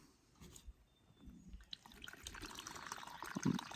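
Water pours into a coffee cup, starting as a quiet trickle and building into a fuller, steady splash close by with no talking.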